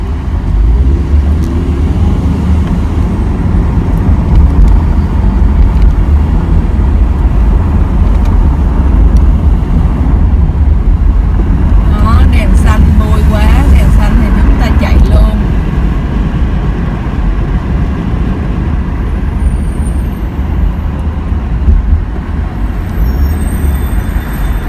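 Steady car traffic on a US street, heard from inside a moving car during a commute, with a constant loud road rumble and engine drone throughout and passing vehicles blending into the hum.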